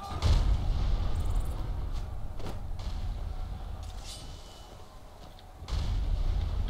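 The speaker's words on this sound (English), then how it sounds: "I just got hit by artillery." In modded Skyrim, artillery fire strikes the player: a heavy low boom opens, followed by a sharp crack and a second deep impact near the end, over rumbling game ambience.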